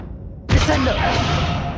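A Descendo slam spell in the video game Hogwarts Legacy bursts in suddenly with a heavy low thud, then a dense rushing roar that holds loud and steady to the end.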